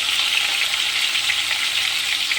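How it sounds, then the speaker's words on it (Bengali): Potatoes seasoned with salt and turmeric fry in a pan with a steady, bright, close sizzle that hisses continuously without pause. "দেবো এবার আলুটাকে ভেজে নেবো।"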